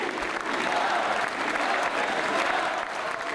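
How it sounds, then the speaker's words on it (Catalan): A large crowd applauds at the end of a religious funeral ceremony for Lluís Maria Xirinacs, dense sustained clapping that stays loud and even throughout. "L'acte religiós s'ha acabat amb 5 minuts d'aplaudiments"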